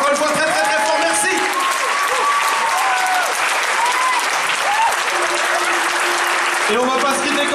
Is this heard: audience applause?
yes